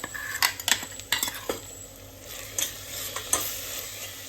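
Garlic, ginger and green chillies fry in a pan under a soft sizzle, while a spoon stirs and clinks against the pan in short irregular bursts close by, with no talking.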